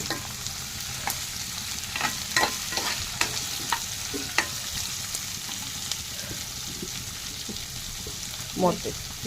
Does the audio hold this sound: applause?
no